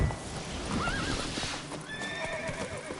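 Roach, a horse in The Witcher 3, gallops with rapid hoofbeats and lets out a loud, wavering neigh, set against a busy game backdrop of clashes and shouts.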